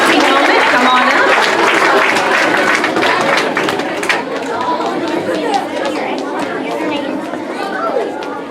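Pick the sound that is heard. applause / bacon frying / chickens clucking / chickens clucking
applause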